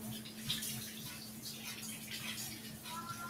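Tap water runs steadily over tomatillos being rinsed in a sink for homemade salsa, a soft continuous splashing flow with faint drips, alone at moderate level.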